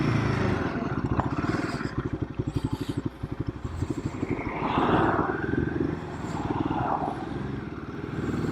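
A Royal Enfield Himalayan 452 motorcycle rides along with a steady, pulsing single-cylinder engine note close by, its rhythm shifting as it changes speed, with wind noise surging at moments.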